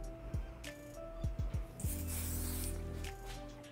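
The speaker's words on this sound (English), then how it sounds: "Spray it all over." Aerosol hair shine sprayed over styled hair in a short, faint hissing burst, preceded by small clicks and handling sounds.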